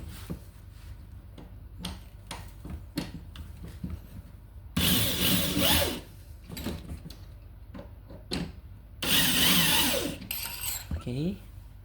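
Screws are tightened by hand while an office desk is assembled, giving short ratcheting clicks and scrapes, plus two louder sustained bursts of a power screwdriver, with quiet gaps between.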